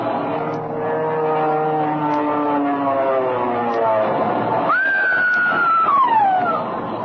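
A droning engine hum slides downward in pitch, then a loud, sharp whine cuts in and falls away, like a plane diving; an airplane dive and collision sound effect.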